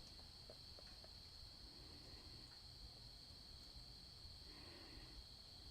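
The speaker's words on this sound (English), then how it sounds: "still no background noise except for the crickets" Steady crickets chirp outdoors in a quiet natural setting, a continuous faint high-pitched trill running throughout with no other notable sounds.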